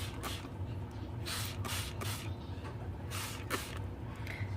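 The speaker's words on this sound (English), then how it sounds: "And I'm spraying it again with water" Several short bursts of hissing water spray onto paper in uneven succession, close by, over a low steady background hum.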